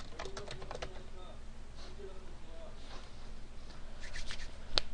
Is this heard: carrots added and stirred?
no